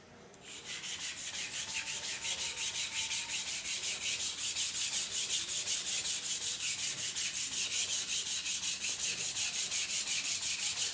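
A knife blade is polished by hand, producing a steady, close rubbing scrape in even back-and-forth strokes that continues the whole time without pause.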